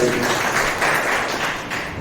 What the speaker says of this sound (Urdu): ایک زوردار تالی بجا تو خوبصورت ہے